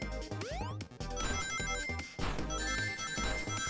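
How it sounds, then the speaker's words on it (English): Ringing tones sound behind a busy, layered game soundtrack in a Sonic game, with steady tonal rings repeating through the mix at moderate loudness. "What is that ringing I'm just hearing in the background?"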